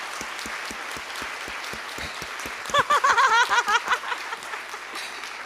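An audience at an art conversation event gives a burst of clapping that swells briefly and then fades, while a steady background murmur runs underneath.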